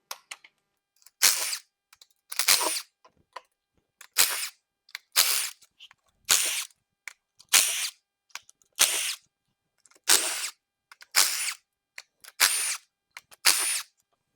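A power tool, likely an impact driver, removes the 12mm valve cover bolts on a 6.0 Powerstroke diesel engine, giving about a dozen short, loud whirring bursts in a steady rhythm, close up and separated by brief silences.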